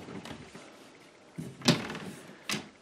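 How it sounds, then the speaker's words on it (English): Wooden cabinet doors in a room holding fiber and hand-spun yarn are handled with faint shuffling, then a couple of sharp knocks and clicks as the doors come open, quiet and close. "so we can get the doors open."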